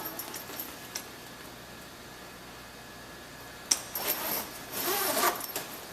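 Faint background hum, then a quick zipper pull and a longer rasping zip on boat canvas near the end, close by and fairly quiet.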